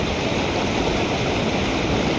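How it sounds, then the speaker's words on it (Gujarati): Swollen Machchhu river in flood after very heavy rain, its water swirling and rushing past a washed-out road; a steady, loud, dense roar of churning water fills the whole stretch without a break and without voices. "જો તમે કેવી ભયંકર સપાટીએ વહે છે આપણી મચ્છુ નદી."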